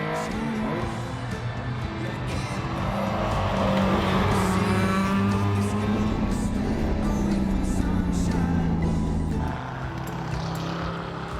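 Classic cars of the Tour Auto historic rally race around the Charade circuit, engines roaring past one after another with rising and falling pitch, loud and close, blending into a continuous rumble.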